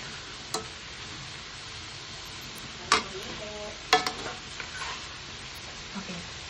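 Chopsuey with shrimp stirred in a pan after a little water goes in, a soft steady sizzle beneath a few sharp utensil scrapes and clicks near the middle.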